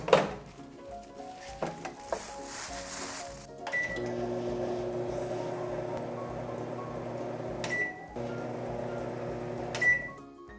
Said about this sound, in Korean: 전자레인지를 사용해서 가열을 해줄 건데요